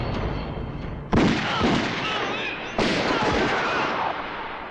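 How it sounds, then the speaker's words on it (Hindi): Gunshots fire in a Hindi film scene, with two loud sharp blasts that each ring out into a long, dense echo over a noisy background. "तुमने हम पर गोलियां चलाई"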